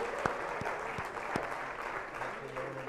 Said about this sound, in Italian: un applauso a Qualagna